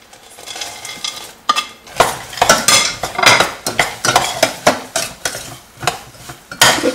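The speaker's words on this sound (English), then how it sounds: "Switch off the stove and add the groundnuts." Groundnuts being stirred into hot jaggery syrup in a pan for peanut chikki, with a steady run of close, sticky scraping and clinking spoon strokes against the metal pan.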